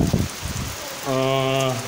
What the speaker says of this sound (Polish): No, dawno takiego deszczu nie było w tym roku.